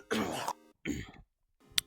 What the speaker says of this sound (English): Coughing coming.